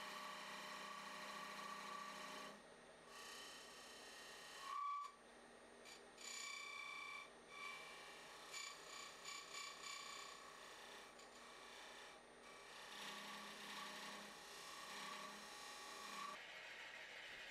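Steady scraping and rasping of a square scraper cutting a wooden box on a spinning lathe, continuous with brief pauses, close and moderately loud.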